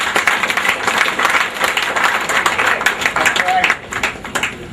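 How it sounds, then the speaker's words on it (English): Audience at an indoor budget discussion event clapping hands steadily for several seconds, a dense sustained patter of applause that thins slightly toward the end. "Please clap your hands."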